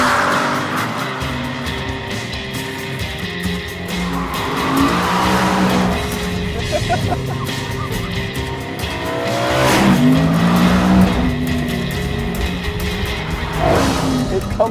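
A BMW M3 E92 at speed on a race track, its engine note climbing and falling through revs while tires squeal and skid, loud and close with a busy, rushing background.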